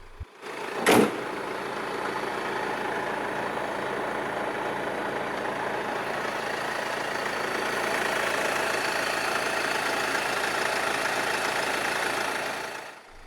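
A 2013 Mercedes-Benz E 220 CDI SE diesel starts with a brief crank, then settles into a steady, even idle heard close up for the rest of the time.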